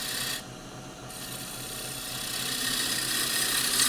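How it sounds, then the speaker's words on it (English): Woodturning lathe spinning a large, slightly warped workpiece, a steady broadband whir with a faint rumbling vibration, swelling gradually louder over a few seconds with no talk. "there's a little bit of vibration just running through the lathe"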